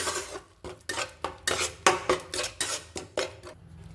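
Katla fish curry with cashews being stirred in a pan: close, rhythmic metal scrapes and clinks of a spoon against the pan, about two strokes per second, with no talk.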